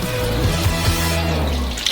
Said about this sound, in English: Pour in 300 milliliters of oil